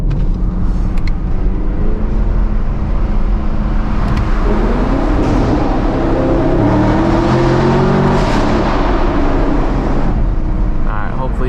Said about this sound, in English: hopefully you guys heard that car. It really does sound incredible